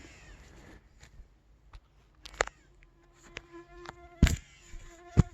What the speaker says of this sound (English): This might be a challenge with the mosquitoes today. They are really out